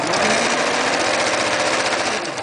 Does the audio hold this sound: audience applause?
no